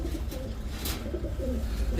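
A pair of racing pigeons coo softly in low, repeated throaty murmurs, close by, over a dull background hum.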